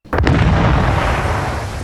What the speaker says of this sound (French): L'explosion du pont est formidable.